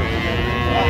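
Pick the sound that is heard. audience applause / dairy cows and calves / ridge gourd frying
dairy cows and calves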